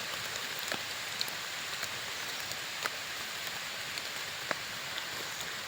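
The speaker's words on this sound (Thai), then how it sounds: "มาอีกแล้วฝน" Steady rain hisses evenly throughout, with occasional sharper drops or taps standing out against the constant wash of falling water.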